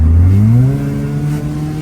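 A Honda Civic EJ accelerates hard, its engine note climbing loud and close in one continuous rising pull with no talk over it.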